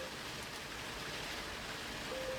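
Soft, steady rain falling, a faint even hiss with no voices.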